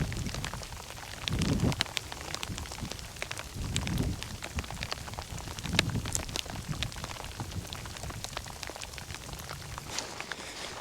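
Steady rain falls at a wild camping spot in heavy weather, a dense continuous patter of drops with soft low rumbling surges. No voices are heard.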